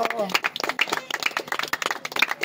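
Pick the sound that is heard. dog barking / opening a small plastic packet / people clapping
people clapping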